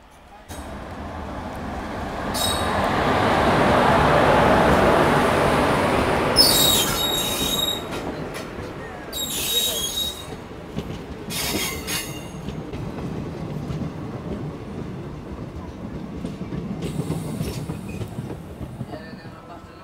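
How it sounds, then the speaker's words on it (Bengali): A mail-express passenger train bound for Puri rushes past and overtakes, a loud swelling rumble of wheels on rail with shrill wheel squeals and clattering bursts, fading slowly into a distant roar. "বঙ্গোপসাগর থেকে পুরীগামী একটি প্যাসেঞ্জার ট্রেন আমাদের ওভারটেক দিয়ে চলে গেল"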